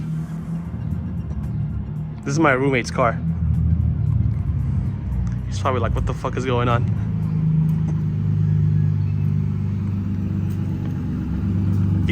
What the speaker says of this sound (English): There's a boosted Nismo pulling up.